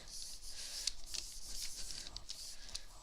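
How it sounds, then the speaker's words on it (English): Paper rubbed firmly by hand onto a Gelli plate to pull a ghost print, a soft continuous swishing friction up close and fairly quiet, with no voices. "I'm going to lay it down here on the bottom. I'm going to rub it really good."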